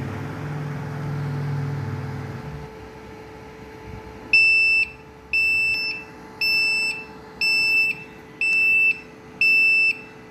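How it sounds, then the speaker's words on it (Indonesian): A low hum fades out, then a power inverter's shrill electronic alarm beeps six times in an even rhythm, loud and close, as a LiFePO4 battery runs down under load. "alarm dari inverter berbunyi"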